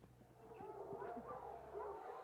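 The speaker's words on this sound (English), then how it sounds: "the dogs are all barking" Several dogs bark and yelp at a distance, quiet and continuous over low background rumble, with no one speaking.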